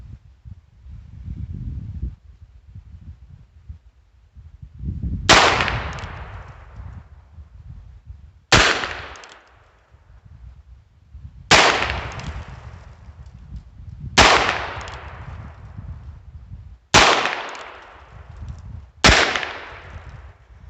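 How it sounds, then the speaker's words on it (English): Six loud, close gunshots from a Heritage Rough Rider birdshead revolver fire at a target ten yards away, each a sharp crack followed by a fading ring, spaced roughly three seconds apart, with faint handling noise between them. "Now we're going to shoot at the left-hand target with the Heritage."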